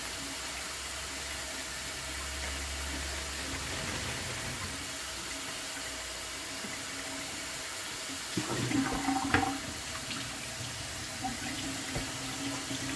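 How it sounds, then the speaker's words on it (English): Tap water runs in a sink while fresh cranberries are rinsed, a soft steady wash with a brief burst of splashing and clatter partway through. "I want to take and open these up and rinse these cranberries off"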